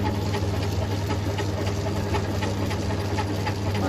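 A Myford ML4 lathe turns a quarter-inch knurled blanking plug for a Mamod engine during a light skim cut, giving a steady close mechanical hum and whirr with no voices.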